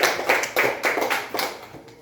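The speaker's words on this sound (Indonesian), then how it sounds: "kita berikan tepuk tangan kepada Dewa yang sudah menjawab pertanyaan" A classroom of students applauding a classmate, brisk uneven hand claps in several close bursts that thin out toward the end.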